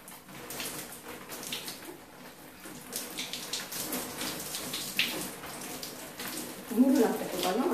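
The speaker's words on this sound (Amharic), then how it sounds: "ተቀባውን ከዋስና ኮንዲሽነሩን በውሃ አጥቋለሁ" Water running as conditioner is rinsed out of dry hair with lukewarm water, a steady close splashing and trickling wash that builds louder near the end, with a voice talking over it.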